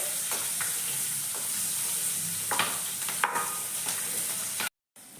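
Slices of green chilli, garlic and ginger sizzle in hot oil in a pan while cooking cabbage sabzi, a steady close frying hiss with a few scraping stirs before it cuts off abruptly.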